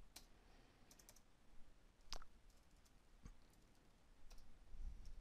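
Scattered computer keyboard clicks, a few isolated taps spread over several seconds against a quiet background hum, while working in GameMaker.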